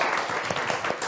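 A game show audience applauds steadily throughout, a dense wash of many hands clapping at an even loudness with no talk over it.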